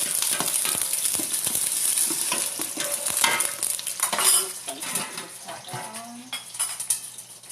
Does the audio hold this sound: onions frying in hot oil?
yes